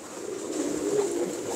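Pigeons kept by a fancier coo softly in a low, steady murmur that runs unbroken for a moment, with no talking over it.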